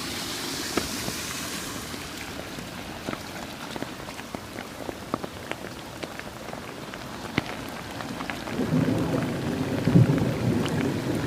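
Rain falls steadily on surfaces beside a flooding creek, a soft continuous hiss with scattered sharp drip and tap sounds, growing into a louder rushing wash near the end.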